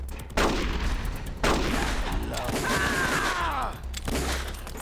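Video game gunfire: two heavy shots around half a second and one and a half seconds in, each followed by a rumbling tail, then a rising and falling whine in the middle, all over a dense, steady game soundscape.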